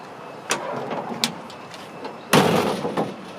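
The gas cap on a 1965 Ford Ranchero is handled and shut, with a few light metallic clicks followed by a firmer close, nearby and moderately loud.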